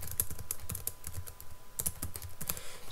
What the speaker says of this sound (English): I'm just going to type in some English